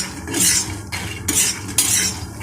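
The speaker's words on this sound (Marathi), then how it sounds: "आधी शेंगदाणे भाजून घ्यायचे चांगले कडक भाजवायचे शेंगदाणे" Peanuts dry-roasting in a pan and being stirred in rhythmic strokes, dry rattling and scraping up close and fairly loud, with no speech.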